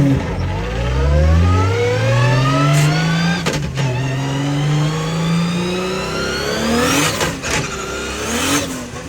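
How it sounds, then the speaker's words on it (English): A car's engine, its fuel old after sitting a while, revs repeatedly and runs rough, breaking up between rising and falling pulls. The sound is close, loud and uneven, with no talking. "I think the car's breaking up a little bit because it's been sitting for a while"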